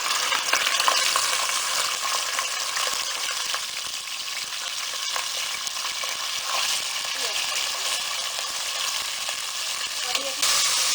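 Boneless chicken fries in a karahi with a dense, even sizzle and spatter that holds steady throughout, with occasional faint stirring clicks.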